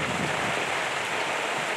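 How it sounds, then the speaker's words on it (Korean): Heavy rain pours down steadily on Jeju Island, a dense, continuous wash of falling water that stays loud and even throughout, with no voices. "제주도에는 벌써 세찬비가 내리기 시작했습니다"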